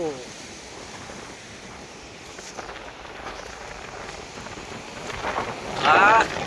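Sea surf washing onto a village beach, a steady broadband wash of breaking waves that swells louder near the end, with a faint high chirp over the top.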